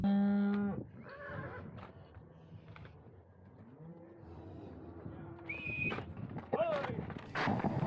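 Range cattle lowing in a herd settling for the night, a loud, drawn-out moo opening the clip followed by several shorter, more distant calls and snorts over a restless background, with a sharp high whistle near the end.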